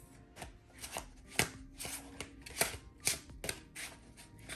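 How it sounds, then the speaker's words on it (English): A large Pokémon card deck being shuffled in short, irregular riffling bursts, close up and fairly quiet, with no voices. "I'm shuffling my big Pokemon deck. It's really hard to shuffle."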